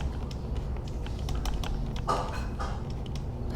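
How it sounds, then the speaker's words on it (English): Someone pounds impatiently on a computer keyboard: a quick, irregular run of close clicking keystrokes with a few heavier thumps, continuing throughout and never settling into a steady rhythm. "you're pounding the keyboard"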